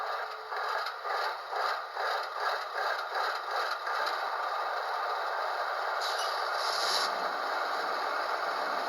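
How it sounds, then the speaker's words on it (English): A model NS ES40DC locomotive by Athearn Genesis with a sound decoder starts up, giving rhythmic chuffing clatter that settles into a steady diesel rumble, then a brief air-release hiss; small, close and moderately quiet, no talk. "now we have our locomotive has started up"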